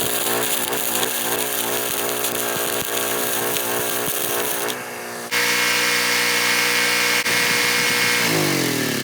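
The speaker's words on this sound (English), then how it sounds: "we're gonna grind it down a little bit and paint it" Welded metal is ground down before painting, with a loud, steady, high-pitched motor whine close by that shifts pitch partway through and winds down at the end.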